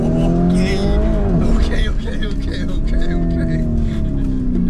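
A car engine drones steadily from inside the moving vehicle, its tone rising and falling slightly, with indistinct voices talking over it throughout.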